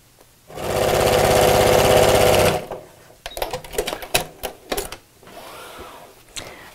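A sewing machine runs in one loud steady burst of about two seconds while stitching laptop bag panels, followed by fabric handling and several sharp clicks and rustles close by.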